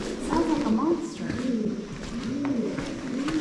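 Low, hollow cooing of doves in a cave in Hocking Hills State Park, Ohio, repeating over a steady reverberant background, with a voice faintly mixed in.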